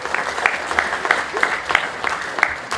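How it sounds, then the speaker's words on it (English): An audience at an annual sports awards evening breaks into steady, fairly loud applause, dense clapping with a few sharper claps standing out, with faint voices underneath. "give them a round of applause"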